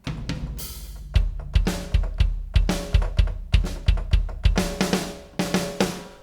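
Drum hits triggered by tapping a computer keyboard used as a MIDI controller, about fourteen punchy kick-and-snare strikes in an uneven tapped rhythm, each ringing briefly before the next, with no voices.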